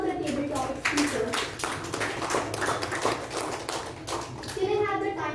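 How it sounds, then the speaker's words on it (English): Audience applause for table topic speakers at a youth leadership speaking meeting, dense clapping from a room of people lasting several seconds, with a voice speaking faintly over it. "Please give a thunderous round of applause to all the table topic speakers."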